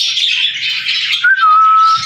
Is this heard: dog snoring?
no